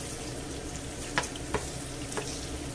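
Chicken livers fry in a pan with a steady, soft sizzle, broken by a few faint clicks and taps of a utensil.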